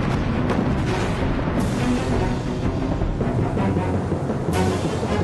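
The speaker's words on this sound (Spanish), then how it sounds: "luego lo hunde a cañonazos" Cannon fire pounding a Peruvian warship run aground on sharp coastal rocks during the War of the Pacific, a dense, continuous rumble of booms and blasts with a few sharper bursts, loud and sustained without talk.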